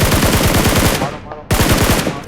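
Loud, close rapid automatic gunfire from a video game weapon firing at an enemy on a hill, a dense burst that cuts off briefly and then resumes.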